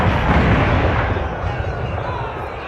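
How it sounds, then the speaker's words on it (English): Fireworks detonate in the video game Dragon Age: Inquisition as a dense, loud rumbling roar of overlapping blasts, sustained throughout and slowly fading, with no clear gaps between bursts. "An impending war, and we are detonating fireworks."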